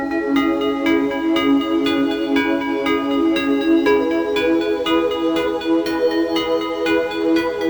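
Heavily distorted synth pluck or bell melody with delay and reverb, loud rhythmic notes repeating about every half second, each tail echoing into the next, with no voices.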